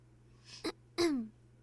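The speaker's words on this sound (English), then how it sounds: "clearing her throat in obvious disapproval" A woman clears her throat twice in quick succession, a short soft rasp followed by a louder, longer guttural clearing that trails off, close and isolated over a faint steady hum, with no talking.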